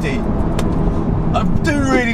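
Audi S1 accelerating hard from a standing launch, a steady loud engine roar with rising tones toward the end, with a person speaking over it.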